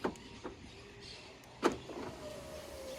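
Power windows on a Fiat Strada Ranch pickup closing after a single key-fob press, heard as a faint, steady electric motor whine with a couple of soft clicks and thumps, quiet and close.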